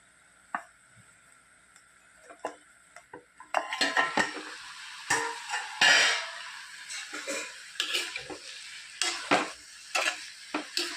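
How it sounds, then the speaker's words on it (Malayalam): Pumpkin masala cooks in a pan: after a quiet start, a utensil stirs and scrapes with frequent metallic clinks over a light sizzle, loud and close. "മത്തങ്ങയൊക്കെ വെന്ത് വരാൻ തുടങ്ങിയിട്ടുണ്ട്"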